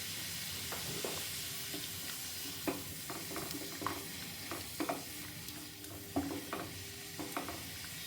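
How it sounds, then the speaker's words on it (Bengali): Salted water with cabbage leaves coming to a boil in a pot, a faint, soft hiss broken by scattered irregular pops and clicks as bubbles start to rise. "দেখো একটা কিন্তু বয়েল আসছে"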